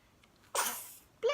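A one-month-old baby gives a single small, soft sneeze up close, a brief breathy burst followed by a moment of quiet before an adult voice speaks.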